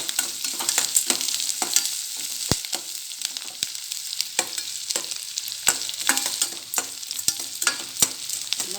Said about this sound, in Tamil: உப்பு போட்டு அந்த இது வெங்காயத்தை வதக்குங்க